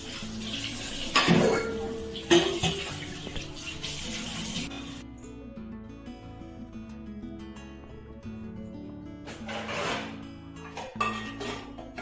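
Dishes and pots being scrubbed and washed at a kitchen sink with soap or liquid, clattering metal knocks and clinks over running water, in bursts separated by quieter stretches of soft rinsing.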